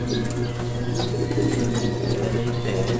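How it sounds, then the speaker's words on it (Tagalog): Racing pigeons landing during a toss return, soft cooing and a few chirps with faint wing flutter, close by over a steady low hum. "Bumaba na mga kaibon."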